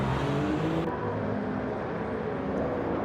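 Ferrari Testarossa racing in a video game, a steady loud engine drone with shifting revs, close and continuous with no talk.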